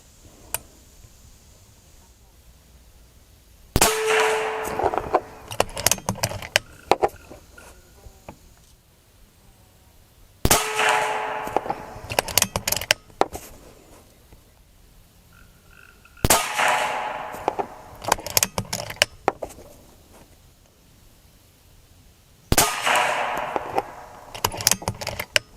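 Four sharp shots from a Winchester 70-45 big bore air rifle firing NSA slugs at a 50-yard target, each a loud crack followed by a few seconds of clattering, rattling aftersound, spaced several seconds apart.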